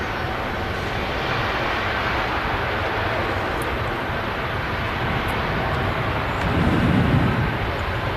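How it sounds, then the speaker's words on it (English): A Gulf Air Boeing 787 Dreamliner rolling on a runway at Manchester Airport produces a steady, distant jet engine rumble with broadband roar that swells slightly toward the end, heard alone without voices. "Gulf Air now rolling on runway 2. Dreamliner."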